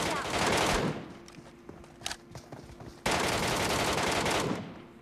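Bursts of automatic gunfire ring out in the PUBG battle royale game. A dense rattling volley is followed by a lull with scattered shots and movement, then a second sustained burst, all moderately loud.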